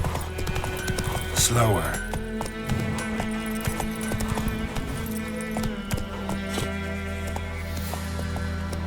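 Hooves of the horse in The Witcher 3 video game clip-clopping in a steady trot, with a whinny early on, under a person speaking.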